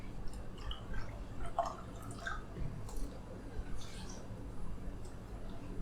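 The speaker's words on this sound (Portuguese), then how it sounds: "Aí fica escorrendo aqui um pouquinho" Freshly cooked vegetables sit draining in a kitchen, water dripping off them in sparse, soft, irregular drops over a low steady hum, quiet and close.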